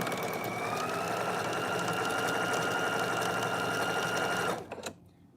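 A sewing machine runs a steady, continuous whirring stitch along a quarter-inch seam around a sleeve hem, close and even, then stops abruptly near the end.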